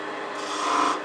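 A woodturning tool cuts into a spinning snowman ornament blank on a lathe, giving a steady close rasping scrape that brightens and intensifies briefly before settling.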